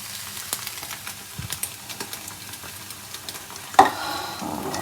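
Food is stirred in an iron kadai with scraping and clacking of the spatula over a faint sizzle, close and irregular, with one louder knock near the end and no talk.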